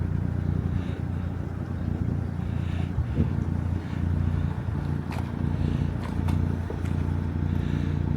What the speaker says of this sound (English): I'm just going to start the engine and we're off